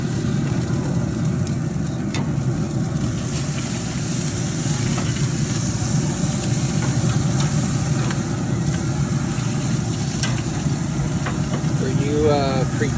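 Skirt steak for fajitas searing on a Pit Boss pellet grill, giving a steady, continuous sizzle under a low fan-like hum, close and fairly loud throughout, with a short scraping clatter near the end.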